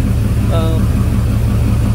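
A 1971 Plymouth Cuda engine idles in a steady, loud, low rumble, with a person talking over it.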